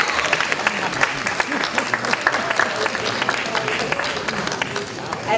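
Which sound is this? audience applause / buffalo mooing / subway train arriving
audience applause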